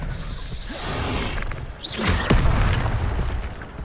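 Magic spell effects in the video game Hogwarts Legacy, Levioso and Expelliarmus, loud whooshing bursts with a rising swish and a heavy booming impact, layered over dense game ambience and rumble.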